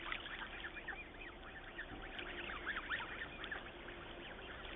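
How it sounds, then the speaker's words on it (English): A flock of geese honks and cackles continuously out in the open, many overlapping calls forming a steady, fairly distant chorus over a low background rumble. "The geese, they sure look happy."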